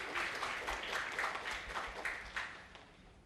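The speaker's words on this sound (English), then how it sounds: "Let's give her a round of applause." Applause from an audience at a school awards evening, a steady wash of many hands clapping at moderate distance, fairly quiet and sustained with no voices over it.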